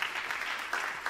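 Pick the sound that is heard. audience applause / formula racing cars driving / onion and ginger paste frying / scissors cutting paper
audience applause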